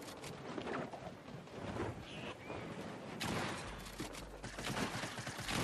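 Dense, continuous bursts of gunfire from a shooter video game, including a drum gun, crackling loud and busy throughout with no pauses.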